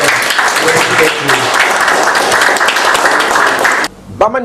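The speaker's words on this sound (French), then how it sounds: "Bravo, allez, applaudissons." An assembled crowd at a Kasai contract signing ceremony for the Lemba Limbo factory claps loudly and steadily, then the applause cuts off abruptly and a voice begins speaking.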